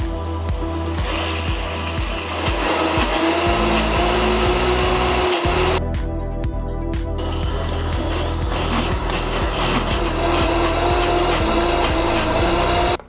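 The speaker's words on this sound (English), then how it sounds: "In go my onions, my cashews, and we're gonna blend until it's nice and smooth." A blender whirs loudly as it purées onions and cashews into a smooth paste, its motor droning steadily for several seconds with shifts in pitch as the blades catch and then spin freely.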